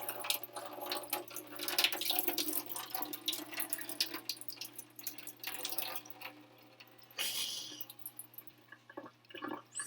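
Fried fritters draining in a strainer, with steady close dripping and trickling of liquid throughout and a brief louder splash of runoff near the end, no talk.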